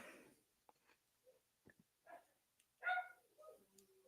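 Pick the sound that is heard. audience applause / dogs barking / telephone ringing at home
dogs barking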